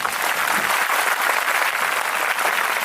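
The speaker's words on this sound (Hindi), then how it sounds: "जिसने आयोजन किया उसके लिए ताली बजा दो।" Audience clapping for a gathering's organizer at a Christian sermon event, a dense steady burst of applause from a crowd that holds at an even, loud level for about three seconds with no voices over it.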